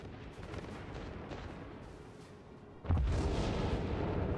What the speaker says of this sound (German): Aus dem Rauch wird jetzt hier geschossen.